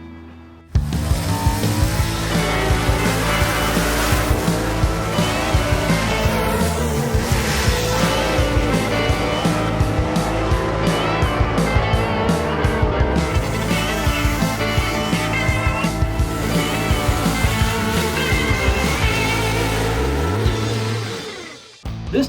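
Gasser drag race cars at Kil-Kare Dragway in Xenia, Ohio roar loud and close for about twenty seconds, a dense sustained engine blare with revving surges before cutting off abruptly, no talk over it.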